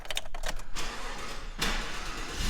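A 2018 Chevrolet Silverado 1500 LT pickup truck engine starts with a short crank and catch, then settles into a steady idle, heard from inside the cab after some brief clicks.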